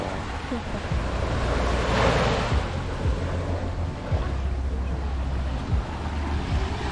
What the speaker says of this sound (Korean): 보트가 지나갑니다